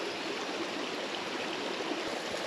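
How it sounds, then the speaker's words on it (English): A small stream of water in southern Spain flows in a steady, continuous rush, close and even throughout with no voices. "a stream of water"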